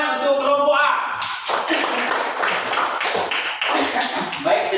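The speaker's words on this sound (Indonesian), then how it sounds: "tepuk tangan untuk kelompok A" A classroom group claps for group A, a quick burst of hand claps and taps after a teacher's voice, fairly close and busy with uneven bursts and a voice over the start.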